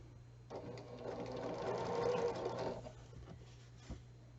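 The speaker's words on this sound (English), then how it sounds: "Bring this over here and sew it" A sewing machine stitches a quarter-inch seam along a quilting fabric strip, one steady whirring run of about two and a half seconds, fairly close and alone, fading into a faint low hum afterward.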